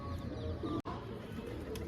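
Pigeons from a prized pair kept by a hobbyist coo in soft low repeated notes, close by, with a short dropout midway and no talking.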